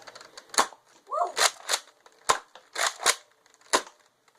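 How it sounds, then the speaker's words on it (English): A Nerf blaster being fired during an unboxing: several sharp, close pops spaced irregularly across the clip, with a brief child's vocal sound in between. "I'm gonna shoot this thing."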